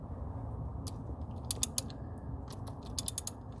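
A balance shaft bolt on an MK6 Golf R is broken loose with a 12mm triple-square bit while the crank is counter-held. A few sharp metallic clicks and creaks come in two short clusters over a steady low background hum.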